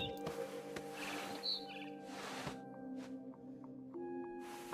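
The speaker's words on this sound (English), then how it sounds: "chirping outside my window. It was a barn swallow going back to her nest" A barn swallow chirps in What Remains of Edith Finch: a few brief, high, faint tweets over sustained tonal game music and soft whooshing bursts.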